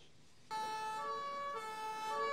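A fire-brigade ambulance siren bursts in suddenly after a quiet moment, loud and close, with bright layered wailing tones that shift pitch midway and keep sounding steadily with no voices.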